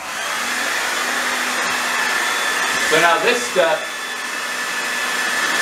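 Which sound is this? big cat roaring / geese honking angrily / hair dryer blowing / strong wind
hair dryer blowing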